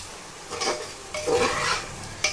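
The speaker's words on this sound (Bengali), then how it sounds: "এটা ভালো করে এবার কষিয়ে নেবো আলুটা" Potatoes are stir-fried in a pan before chana dal goes in, with a few close scraping stirs over a steady sizzle and no voices.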